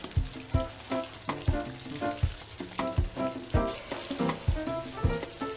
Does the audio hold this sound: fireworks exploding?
no